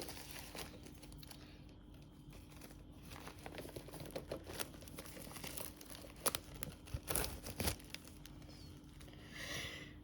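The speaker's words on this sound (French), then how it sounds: "Allez, on se le déballe. Et ben, le blister était dur à ouvrir." Hard plastic blister packaging is pulled open around a Tango & Cash movie steelbook, with continuous close crinkling and crackling broken by sharper snaps and tears over about ten seconds.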